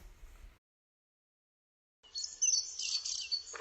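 Bright, busy bird chirping and tweeting fills the second half after a short quiet gap, with a faint low hum underneath.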